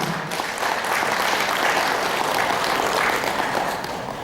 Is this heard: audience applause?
yes